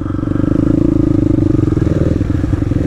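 The engine of a YCF pit bike runs loud and close at a gentle throttle, with a steady chugging idle-like rumble and a slight rise in revs.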